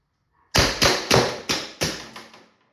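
Five sharp, evenly spaced cracks from an LL4D Pistelle X68 air carbine firing rapidly, each report loud and close with a short decaying tail, then silence.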